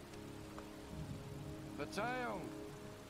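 Steady, faint rain falling in the video game Heavy Rain, a soft continuous hiss outdoors in the cold, with someone briefly speaking over it.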